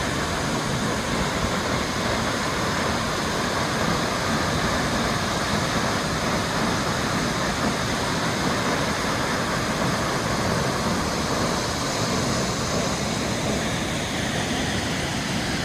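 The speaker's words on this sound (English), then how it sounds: "I've got to see this beautiful waterfall" A waterfall on a jungle trail in Nakhon Nayok, Thailand, pours in a steady, dense broadband roar with no breaks, close and loud, with no voices over it.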